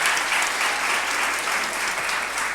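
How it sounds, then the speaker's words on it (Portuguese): A church congregation applauds steadily, a dense wash of clapping hands filling the room at even loudness throughout, with no voices rising above it. "Dá a salva de palmas para ele."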